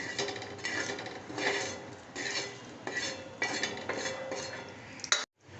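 Repeated metal scraping and clinking of a spatula against a griddle pan, removing roasted spices in several rhythmic strokes, close and fairly loud, ending in a brief silence.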